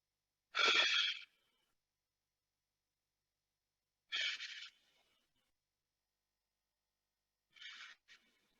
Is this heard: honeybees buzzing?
no